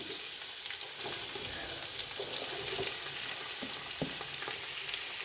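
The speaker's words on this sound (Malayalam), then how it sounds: "ഫസ്റ്റ് നമ്മൾ ഒരു പാനിലേക്ക് കുറച്ച് എണ്ണ, പട്ട, ഏലക്ക, ഗ്രാമ്പിട്ട് പിന്നെ നമ്മൾ കുറച്ച് ഓണിയൻ ഇടുകയാണ്." Oil sizzles steadily in a pan with cinnamon, cardamom, cloves and onions, a loud, continuous hiss of frying with faint stirring clicks, close and with no talk, for a biryani.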